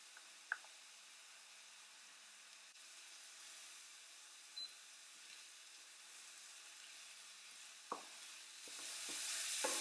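Garlic sautéing in a pan for a seafood risotto, a quiet steady sizzle with a few soft stirring scrapes and taps, swelling into louder frying near the end.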